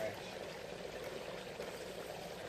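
Creek water flowing over fresh sediment, a steady broadband rush that holds constant throughout, close by, with talk nearby.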